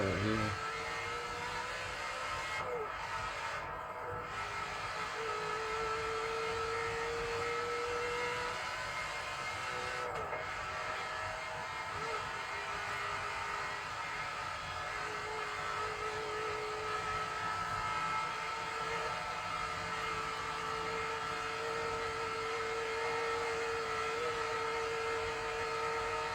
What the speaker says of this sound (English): Beautiful downshifts.